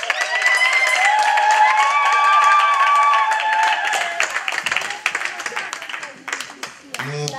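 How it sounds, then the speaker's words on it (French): Church congregation applauding and cheering in praise of God, a loud sustained wash of clapping and voices with bright sung or shouted tones over the first half, thinning into scattered claps toward the end. "nous sommes dans la joie, acclamons encore plus fort notre Dieu"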